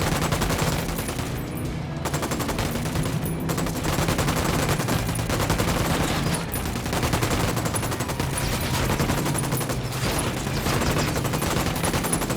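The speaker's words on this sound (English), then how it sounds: "I'm opening fire on these shitheads." Sustained automatic gunfire rattles through a firefight in Ghost Recon Wildlands, with dense rapid bursts from several weapons overlapping almost without a break, loud and close, over a low rumbling background.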